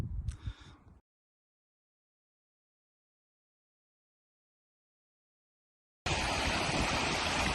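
A small river flows in Knoydart, rushing water heard loud and close in two bursts, about one second at the start and the last stretch from six seconds, with a long silent gap between.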